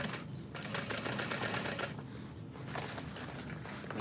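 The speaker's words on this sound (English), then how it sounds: "And sew a few stitches, keep your needle in" A sewing machine stitches a backpack around curves in short bursts, its steady rapid mechanical whir filling the clip with brief pauses as the fabric is repositioned.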